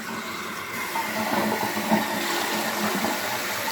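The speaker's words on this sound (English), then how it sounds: "I'm going to flush the tank." Toilet tank flushing, a rushing gurgle of draining water that builds and holds for a few seconds, heard close and moderately loud with no talking.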